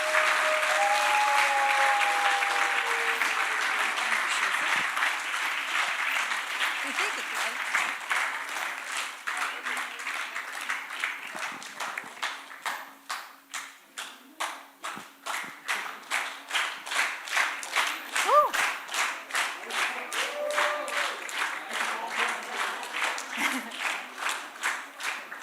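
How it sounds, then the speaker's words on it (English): Audience applause at a hospital-innovation hackathon's final pitch session award, a long sustained round of many hands clapping that fades slightly midway then swells again, loud and close throughout. "I can see that you really learned the lesson how to clap"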